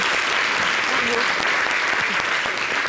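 Steady, dense studio audience applause on a French television variety show, loud and continuous throughout, with faint voices mixed in underneath.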